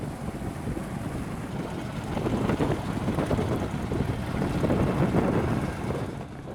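A motor boat crosses open sea toward Pulau Harimau near Desa Sumur in Lampung, hauling election supplies. There is a steady rumble of hull and water, with wind buffeting the microphone and rising a little midway.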